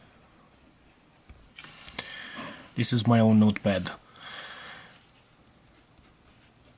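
Diplomat Excellence A2 fountain pen writing on 120-gram Mondi paper, a soft scratchy nib sound under a short stretch of nearby talk.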